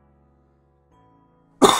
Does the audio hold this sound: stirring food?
no